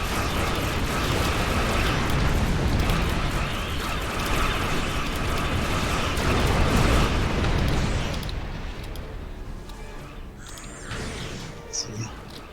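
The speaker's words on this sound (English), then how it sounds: "heavy plasma torpedoes coming out of nowhere" Heavy plasma torpedo explosions in a Star Trek space-combat video game, a sustained roaring, rumbling wash of blasts that fades toward the end, with a voice talking over it.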